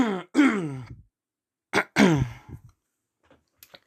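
A man clears his throat twice, close and distinct, with short silent gaps between the rough bursts and a faint trailing sound at the end.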